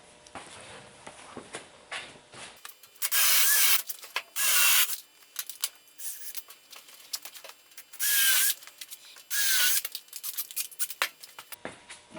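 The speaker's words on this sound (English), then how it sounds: "I'm actually going to counterbore in two spots and shoot two screws in here" A power drill counterbores into a wooden benchtop and drives screws, running in several loud short whining bursts close by, separated by quiet pauses and small handling knocks.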